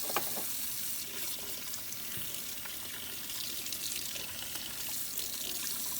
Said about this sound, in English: And wash all of the paint right out